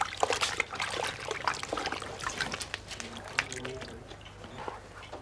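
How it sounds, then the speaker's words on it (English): Water trickles and drips in an uneven, close patter while leather is soaked soft for saddle making in a saddler's workshop, the splashes fading slightly toward the end. "The leather is then soaked to make it soft and pliable."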